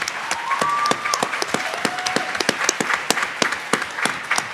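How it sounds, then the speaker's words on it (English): Scattered audience applause for panelists at a panel on food sovereignty and climate justice, sharp claps spread over a few seconds with a brief tone in the background. "Round of applause for them."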